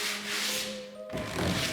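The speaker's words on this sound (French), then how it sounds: "je vais gratter tout le surplus et je vais poncer avec une petite cale" A small sanding block scrapes and rubs over plaster filler on drywall, a soft gritty sweep that breaks off with a dull knock and starts again, close by.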